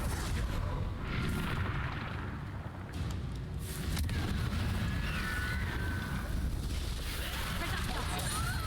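Confringo blasting-spell explosions in Hogwarts Legacy roar as a continuous, heavy rumbling wash with booming surges, loud and close, while a voice talks over the chaos.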